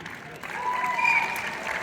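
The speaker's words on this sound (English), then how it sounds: "It's very, very exciting golf clapping." A concert audience at the OLG Stage in Niagara Falls gives brief, polite golf clapping, a modest patter of hands that swells slightly and holds for under two seconds.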